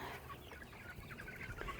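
Chickens clucking and squawking in a busy, agitated flock, several birds calling over one another at a moderate distance.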